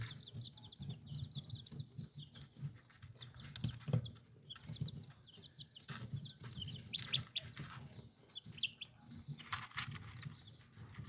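Many small chicks peep in high, quick chirps, a continuous busy chorus close by over a low rumbling background, with occasional flutters.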